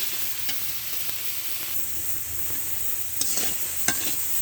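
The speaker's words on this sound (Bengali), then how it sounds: "তিন মিনিট এবার নেড়ে ভেজে নেব" Green banana and potato stir-fried in a pan sizzle quietly and steadily, with occasional sharp scrapes and clinks from stirring heard up close.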